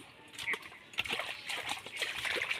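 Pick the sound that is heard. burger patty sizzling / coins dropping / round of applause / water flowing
water flowing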